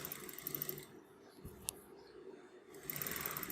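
Sewing machine stitching piping into the lined neckline of a kurti, its steady motor whir running in short bursts at the start and end with a quieter pause between, heard alone without talk.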